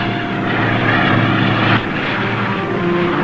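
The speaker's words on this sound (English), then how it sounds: "The plane is a PBY." PBY patrol bomber droning overhead in a radio drama, a loud, steady propeller engine roar that shifts in pitch partway through as the plane passes.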